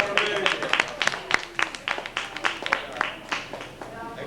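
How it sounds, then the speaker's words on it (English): Audience at a film festival screening in a cinema clapping in a brisk, close round of applause, individual claps crisp and rapid, with a voice speaking over it. "round of applause to you guys"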